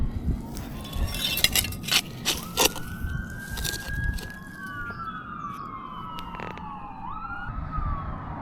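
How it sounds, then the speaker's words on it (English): Several emergency sirens from two ambulances, a police car and a fire truck pass by outdoors, their wailing tones rising and sweeping across the clip, moderately loud over background street noise. "2 ambulances, police, and a fire truck went by just before that."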